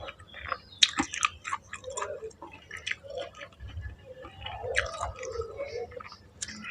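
Close, wet chewing of grilled shrimp with crunchy shell bites and smacking mouth sounds in irregular bursts, faint and intimate with no talking.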